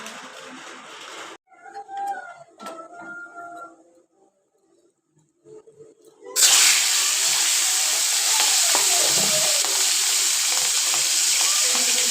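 Fish fry slowly in a pan with a loud, steady, close sizzle that starts abruptly and runs without a break, after a stretch of quieter kitchen clatter.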